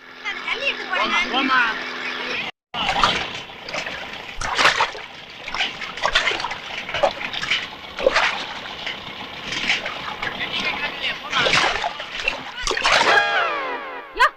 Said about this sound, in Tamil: ஏன் என் மேல தண்ணி ஊத்துன?